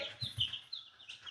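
Large chickens clucking in quick, busy bursts, close by and fairly soft.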